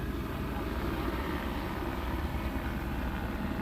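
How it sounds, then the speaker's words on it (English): A police helicopter circles overhead, its rotor and engine giving a steady low rumbling drone that stays constant throughout, fairly distant and without talk. "this helicopter's been circling for a long time"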